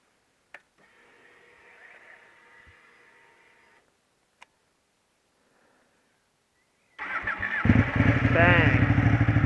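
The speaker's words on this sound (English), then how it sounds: "So let's fire it up." A Ducati 899 Panigale with a Superquadro engine and twin side pipes is started after a quiet stretch of faint ticking and clicks. The engine catches abruptly and settles into a loud, throbbing, close-up idle with a burbling exhaust.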